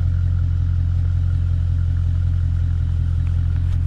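A Dodge Challenger engine with a modified muffler idles with a deep, steady rumble and throaty low drone, loud and close, with no talking.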